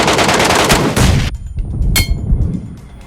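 A gunshot striking the player in the PUBG Metro video game: loud dense gunfire and blasts cut off abruptly, then a single sharp metallic crack rings out against a quieter background.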